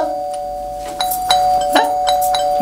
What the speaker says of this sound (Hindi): अरे काहे इतनी घंटी बजाई जा रही है?